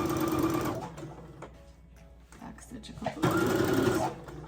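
Sewing machine back stitching the seam of a free-motion quilted fabric coaster, with a 1/4 inch seam allowance: two loud bursts of rapid mechanical stitching separated by a quieter pause, with a person speaking briefly in the middle.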